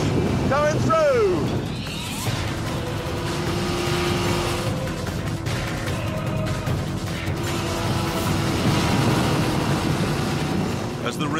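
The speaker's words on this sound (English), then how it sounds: "Where is Jeremy on his boat?" A motorboat engine drones steadily on the River Thames near Tower Bridge in London while wind buffets the microphone, with water rushing beneath and a brief rising whine near the start.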